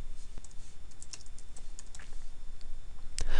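Rapid key clicks from a computer keyboard as a date is typed, a steady run of light taps with a louder cluster near the end, close and alone.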